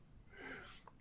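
A single quick sneeze-like burst of breath, fairly faint and close, followed by a short breathy catch.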